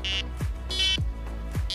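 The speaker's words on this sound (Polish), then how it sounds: "jeżeli mamy jedno piknięcie na sygnalizatorze, to mamy jedno piknięcie na centralce" Three short electronic beeps with descending pitch sweeps from a carp-fishing bite alarm receiver, evenly spaced and loud, over a constant low hum.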